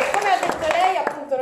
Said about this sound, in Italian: Un applauso ai Coffee Break.